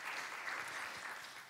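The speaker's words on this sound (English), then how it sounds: "round of applause for them because they sponsored that song" At a Juneteenth celebration, an audience gives a brief burst of applause, a dense, even patter of many hands heard from some distance and fairly soft.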